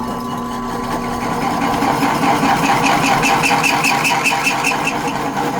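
A power drill bores holes in a metal motor mount bracket for a Coyote 5.0L swap into a Datsun 240z. The whine is loud and close, with a steady high pitch that pulses slightly as the bit cuts.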